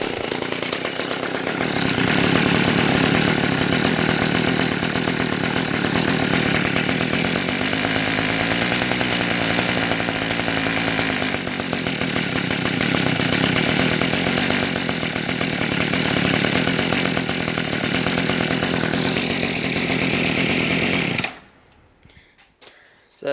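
Echo SRM-230 string trimmer's small two-stroke engine running steadily after a carburetor adjustment, a loud continuous buzz with the revs gradually rising and falling before it cuts off abruptly near the end.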